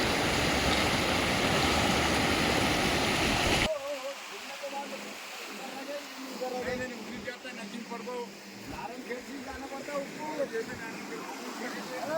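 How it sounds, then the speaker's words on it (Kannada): Floodwater after days of heavy rain surges over the Yanagunda village bridge in Bidar district, a loud steady roar of rushing water that cuts in abruptly, followed by softer gushing and splashing with faint background voices. "ಯನಗುಂದ ಗ್ರಾಮದ ಬ್ರಿಡ್ಜ್ ಮೇಲೆ ನೀರು ಭಾರೀ ರಭಸದಿಂದ ಹರಿಯುತ್ತಿದ್ದು"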